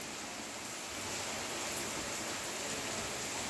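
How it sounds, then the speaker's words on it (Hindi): Heavy rain pours onto neem leaves and the ground in a dense, constant hiss, loud and close, with no voices over it. "और इस समय बादलों से झमाझम बारिश हो रही है।"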